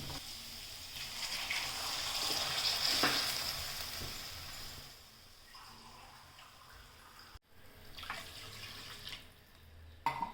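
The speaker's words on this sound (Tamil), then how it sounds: "400 கிராம் தண்ணி ஊற்றிக்கலாம், கரெக்டாக இருக்கும்." Water pours and splashes into a hot pan for semiya upma with a loud hiss and sizzle, fading to a quieter simmer, then a few clinks near the end.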